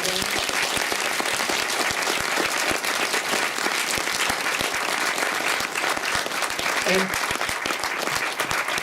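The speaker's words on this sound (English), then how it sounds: "So I think we just deserve another big applause to Simone." An audience at a cinema grand-opening event applauds steadily, dense clapping filling the whole stretch at an even level, with voices faintly mixed in beneath it.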